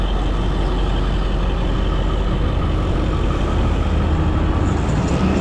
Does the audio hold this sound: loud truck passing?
yes